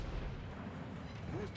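Naval artillery fire in a warship video game, heard as a low, rumbling boom that fills the whole stretch at moderate loudness without a sharp, distinct shot.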